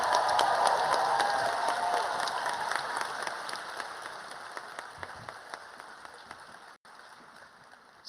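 An audience at a medical school white coat ceremony gives a sustained round of applause that starts loud and dense, then slowly thins and fades, with a few scattered claps lingering toward the end in a large hall.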